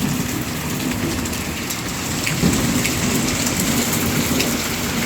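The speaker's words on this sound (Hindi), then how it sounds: "बारिश हो रही है, आवाज़ आ रही है" Steady heavy rain pours outdoors during an Indian monsoon shower, a dense continuous hiss with low rumbling thunder rolling underneath, fairly loud and close, with no one talking.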